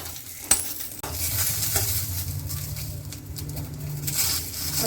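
Green chillies and chana dal roast in a pan for a North Karnataka chutney, a steady close sizzle with scraping stirs, an initial clank of the pan, and faint bird calls in the background.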